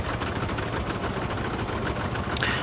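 A micro tractor engine idles steadily in Farming Simulator 22, a continuous low mechanical chug with slight knocking texture, alone and unchanging throughout.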